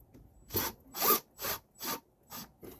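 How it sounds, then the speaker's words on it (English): An adjustable wrench is tightening a nut on a boat's control cable at a Mercury binnacle remote control for a SeaPro 115 outboard. There are six separate close metallic ratcheting scrapes in an even rhythm, with brief quiet between them. "I'm going to use again the adjustable wrench, which I'm going to grab the bolt to one side"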